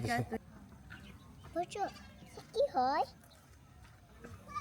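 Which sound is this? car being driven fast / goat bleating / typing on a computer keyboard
goat bleating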